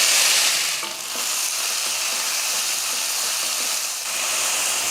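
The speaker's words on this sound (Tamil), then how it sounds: "எண்ணெய் காஞ்சதுமே கொஞ்சம் கருவேப்பிலை போட்டு நம்ம தட்டி வச்சுருக்க வெங்காயத்தை சேர்த்துடலாம்" Curry leaves and crushed onion frying in hot coconut oil, a loud, dense, continuous sizzle heard up close, with slight dips in intensity as the pan is stirred.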